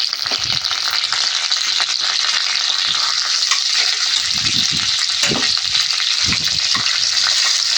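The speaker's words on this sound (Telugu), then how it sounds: "ఆయిల్ వేడయ్యాక తాలింపు దినుసులు తీసుకొని అన్నిటినీ ఆయిల్లో వేసుకోవాలి" Tempering spices crackle and fry in hot oil in a kadai for a ridge gourd curry, a loud continuous sizzle with low stirring thumps and scrapes throughout.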